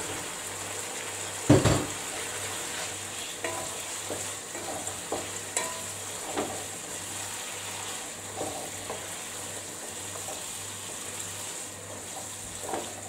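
Okra frying in a pan for a Malaysian vegetable curry, giving a steady close sizzle with a low hum underneath, a sharp clatter near the start and scattered light scrapes of stirring throughout.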